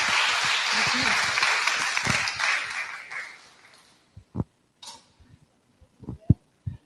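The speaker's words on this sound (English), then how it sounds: "If we can give a round of applause to our panel." Applause from an event audience for a panel fills the room as a dense, sustained wash of clapping that fades out after about three seconds, followed by a few scattered footsteps, knocks and faint voices in a quieter hall.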